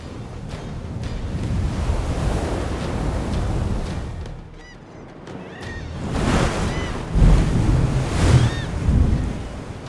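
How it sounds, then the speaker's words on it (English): Ocean waves surging against a seawall, with a steady roar of churning surf and gusty wind noise that eases briefly, then builds into heavier, rumbling surges near the end. "Oh wow, that wave came much farther than the last one."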